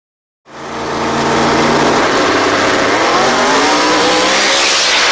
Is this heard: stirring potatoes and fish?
no